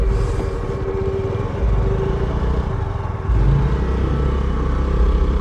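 A motorcycle engine running during a ride up a green mountain road near Bogawanthalawa, a steady loud drone that rises in level partway through.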